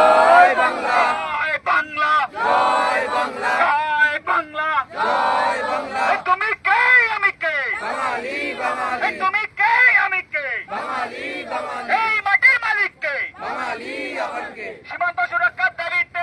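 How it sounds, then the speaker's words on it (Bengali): Bangla Pokkho protesters chant slogans outside the BSF South Bengal Frontier headquarters in New Town, Kolkata: loud, close, rhythmic shouted lines in repeated call-and-response bursts with brief gaps between phrases. "স্লোগান"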